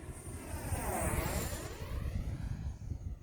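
A Fly Fans/BH 64mm EDF L-39 RC model jet on its maiden flight whooshes steadily overhead, a continuous ducted-fan whine and rushing roar that swells slightly and fades as it climbs, fairly distant.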